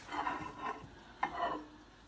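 Hot mug pizza fresh from the microwave crackles and sizzles softly in short bursts, with a sharp tick partway through; no talking.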